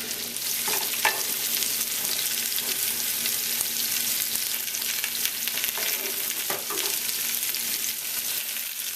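Potatoes frying in oil and butter give a steady, close sizzle throughout, with a few scraping stirs breaking through, and no voices.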